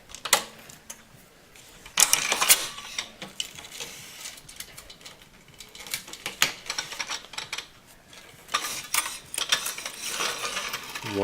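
Tennis racquet stringing: a string being tightened and worked through the frame produces repeated sharp ratcheting clicks and mechanical snaps in irregular bursts, close and fairly loud, with no voices.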